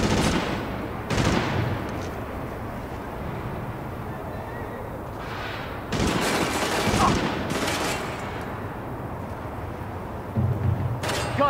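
Gunfire from a battle between National Guard, LMB and rioter forces in the video game The Division, with sustained overlapping volleys and several louder bursts of shots over a constant dense din.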